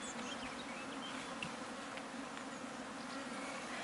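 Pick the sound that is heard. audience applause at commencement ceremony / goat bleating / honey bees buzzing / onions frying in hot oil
honey bees buzzing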